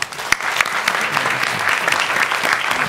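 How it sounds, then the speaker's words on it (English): A conference audience applauding a panel, a room full of people clapping steadily in a dense burst that holds at an even level throughout. "let's give the panel an applause"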